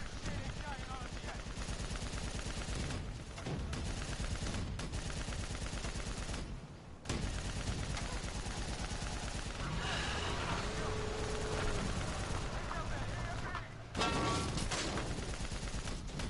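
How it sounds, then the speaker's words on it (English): Dense gunfire and bursts from a GTA Online heist shootout, with rapid shots and blasts packed together loudly across the clip, briefly dropping out twice before resuming. "Just shoot everything in sight! Everything explodes!"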